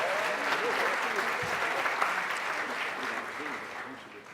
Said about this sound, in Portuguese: Eu queria pedir uma salva de palmas para essas empresas.